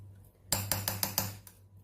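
A spoon mixes chutney with a splash of oil in a bowl, striking the rim in about six quick, evenly spaced clinks. The clinks sound close and ring over a low steady hum.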